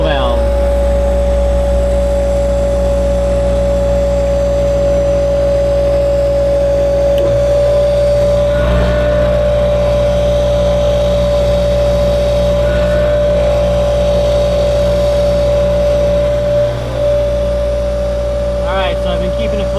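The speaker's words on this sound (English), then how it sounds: "we're going to go ahead and turn on the high pressure pump, which is back over here at the control valve" A high-pressure pump on a boat's watermaker runs steadily, a loud constant drone with a sustained whining tone over a deep hum throughout, with faint background voices.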